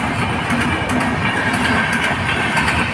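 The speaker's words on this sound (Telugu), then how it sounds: "ట్రైన్ పోతుంది." A train runs past on its rails with a steady clattering roll and a low engine drone, fairly loud and continuous, with faint sharp clicks from the track.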